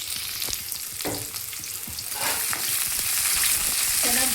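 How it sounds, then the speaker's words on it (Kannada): Cinnamon and cloves fry in oil in a pan for sprouted horse gram sambar, giving a steady close sizzle with occasional stirring scrapes that grows a little louder toward the end. "ಇದೆಲ್ಲ ಸ್ವಲ್ಪ ಕಂದು ಬಣ್ಣ ಬರಲಿ, ಚೆನ್ನಾಗಿ ಹುರ್ಕೋಬೇಕು."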